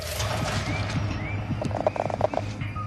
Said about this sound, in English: That's the frog we came for.